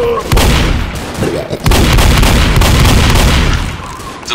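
A Boomer dies and explodes in Left 4 Dead, making loud booming blasts and heavy gunfire-like bursts. A short pause comes around the middle, then a long rumbling roar that fades toward the end.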